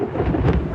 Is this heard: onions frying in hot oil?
no